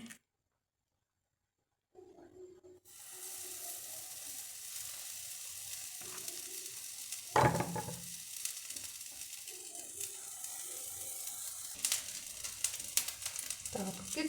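Steady, crackling sizzle of pumpkin pancake batter frying in a hot pan, continuous and fairly close, with a few louder spits and pops partway through.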